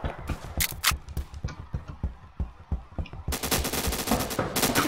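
Roblox Phantom Forces gunfire: rapid bursts of shots in quick rhythmic succession, sparse single reports at first, then denser sustained automatic fire toward the end, loud and up close.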